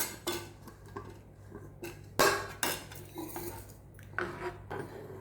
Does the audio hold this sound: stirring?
yes